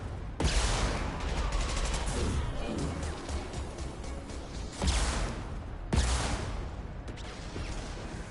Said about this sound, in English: Firing concussion!